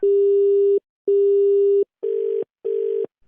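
A telephone busy tone after a call is hung up, four steady beeps with short gaps between them, loud and clean with no voices.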